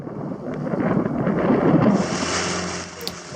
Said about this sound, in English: The trip to Moorea turns out gusty and really wet.